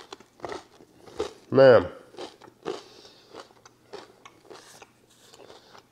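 A single crunchy bite into a buttered slice of rustic cornmeal bread, followed by chewing, heard between bits of a man's speech.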